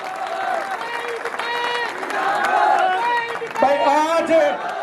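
A crowd at a village political rally applauds while voices chatter and call out over the clapping, with a loud, busy mix of talk and cheering throughout.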